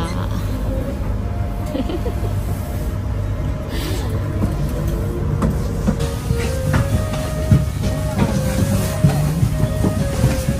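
A train rolls through Hokkaido with a steady rumble and hiss, track clicks and rattles coming through the carriage, with a voice talking intermittently over it.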